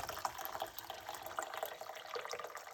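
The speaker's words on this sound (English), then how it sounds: "put 1 cup of water" A cup of water for herbal tea splashes and trickles steadily into a pot, a close, continuous bright pouring with no talk over it.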